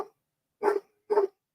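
A dog named Amy barks twice, close and fairly loud, with short sharp barks separated by brief silences.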